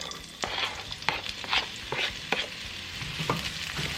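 Chopped onions hit a couple tablespoons of hot oil in a pan, giving a steady close sizzle with sharp crackles and clicks of stirring throughout, no voices.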